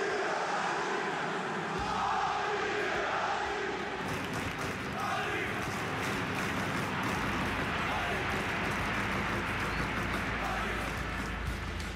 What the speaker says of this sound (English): with more than 900 new crowd chants, you'll be able to sing your way to victory